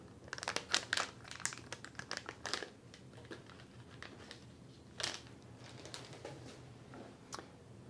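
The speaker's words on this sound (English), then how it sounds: "I'm going to open up the cassette." A COVID-19 home test cassette's plastic packaging is torn open and handled up close, with a flurry of crinkles and rustles early on, then sparser crackles and taps and no talking.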